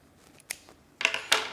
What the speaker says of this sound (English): So let's cut this line here,